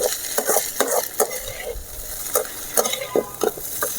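A fried egg is stirred in a pan with a metal utensil, giving repeated scraping clinks over a soft, steady sizzle of frying oil, close and without talk.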